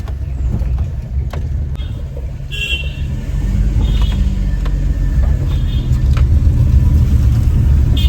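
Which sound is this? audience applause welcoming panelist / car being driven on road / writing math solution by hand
car being driven on road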